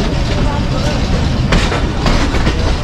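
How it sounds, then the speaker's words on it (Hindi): Passenger train 7UP Tezgam, running late on the Lahore to Lalamusa route, nears Gujranwala railway station at dusk with a loud, steady rumble and rattle of the carriage, while a person talks throughout. "हम 7UP Tezgam Gujranwala railway station approach कर रही है"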